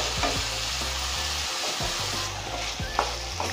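Vegetables frying in a pan for Maharashtrian masale bhat are stirred steadily, with a continuous close sizzle and repeated scraping strokes of a spoon and no talking.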